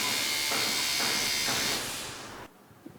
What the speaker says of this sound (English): This bikini styler is not an epilator, it's only a shaver. So you can use it like this.